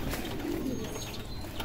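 Breeder pigeons in a loft give a brief, soft coo, faint beneath a noisy, rumbling background.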